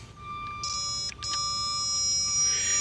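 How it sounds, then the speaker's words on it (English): A multimeter gives a continuous electronic tone during a continuity check on a car's battery and frame ground. The steady beep runs throughout over a low hum, with a few brief clicks and scrapes from the probes. "there's a beep, an audible beep"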